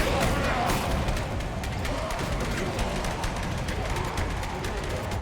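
Dense, chaotic roar of an area in the Elden Ring video game, with constant crashing, booming and clattering layered into a loud, unbroken wall of noise and no clear pauses.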